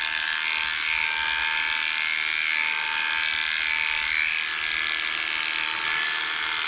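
Electric dog grooming clippers shaving down a matted poodle give a steady, close, high-pitched motor buzz that holds unbroken for the whole stretch, with no talking over it.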